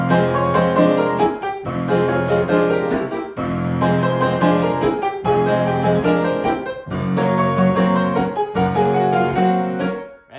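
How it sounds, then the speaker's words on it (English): Piano plays rich repeated chords in a bouncy rhythm, the sustain pedal lifted on the last quarter note, with short gaps where the sound cuts off cleanly between phrases. "if I lift the pedal off the last quarter note, this sounds like this."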